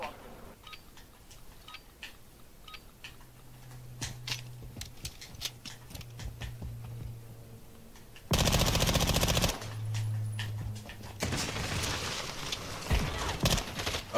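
Rapid bursts of automatic gunfire crackle in quick succession, with a loud sustained burst midway, over a busy game soundscape.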